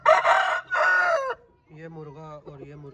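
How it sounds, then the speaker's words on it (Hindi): A rooster crows close by in two loud, drawn-out calls, followed by a softer, lower clucking from a hen, with no talking over them. "ये मुर्गा और ये मुर्गी दी है"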